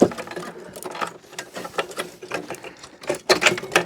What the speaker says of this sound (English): we have some wiring to unplug from the board